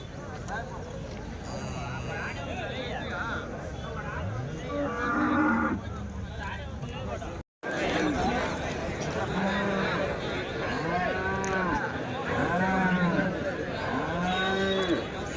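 Cows and calves at a busy weekly cattle market in Chintamani moo again and again, several calls overlapping in the second half, all under steady crowd chatter and someone talking nearby.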